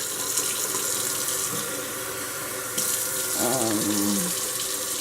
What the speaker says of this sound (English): I think it's safe to add some warm water now.